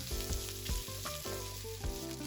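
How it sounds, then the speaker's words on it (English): Loud, steady sizzling of pork belly frying in a hot wok, with occasional scraping stirs and a tonal background hum. "Return all the pork to the wok and continue stir frying for another 8 to 10 minutes"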